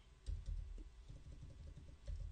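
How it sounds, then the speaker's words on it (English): A search phrase is typed on a computer keyboard as a quick, irregular run of soft, close key clicks, quiet and alone. "And I'm going to type in,"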